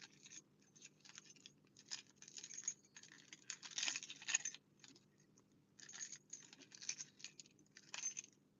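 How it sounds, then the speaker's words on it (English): Keys jangle and rustle faintly as they are pulled out, with irregular metallic clinks and scrapes in quick bursts over a low hum, no voices. "Let me get these keys out."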